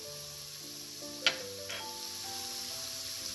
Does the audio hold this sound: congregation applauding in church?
no